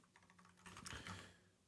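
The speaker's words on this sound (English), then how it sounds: "I'm noticing that I'm typing right now" Typing on a computer keyboard, close and fairly quiet, in a steady run of light clicks that grows denser and louder midway, with no talking.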